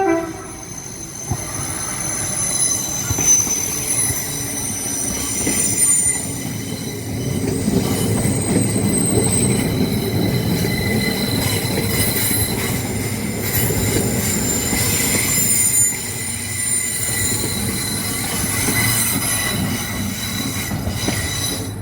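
A Lumo train in Pride livery passes through Manors Station: a long, loud, continuous rumble with high wheel squeal and a horn-like tone, the sound shifting as the carriages roll by.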